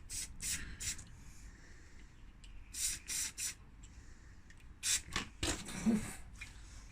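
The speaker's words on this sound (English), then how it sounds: "Just spraying down all these holes" Short hissing bursts of carburetor cleaner spray into the carburetor holes of a Challenge Xtreme SGT26N strimmer, several close, separate spurts with pauses between them and faint handling noise.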